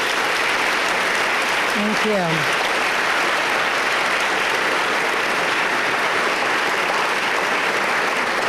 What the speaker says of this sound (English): let's give Fran a wonderful round of applause